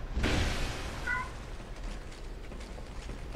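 A house cat gives a single short meow partway through, faint and a little distant, over low room noise and the faint sound of a game playing.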